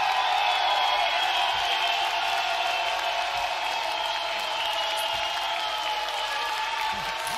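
Sustained audience applause with scattered cheering for a guitarist at a guitar battle event, a steady dense wash of clapping at constant loudness over faint held musical tones.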